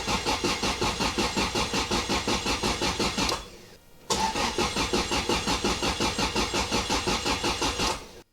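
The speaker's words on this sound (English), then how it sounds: "I guess we'll do like 5 or 6 cranks and then try and start the thing" A rebuilt Toyota Altezza engine cranks over on the starter in a fast, steady chugging rhythm, loud and close. It pauses briefly near the middle and then resumes cranking without catching.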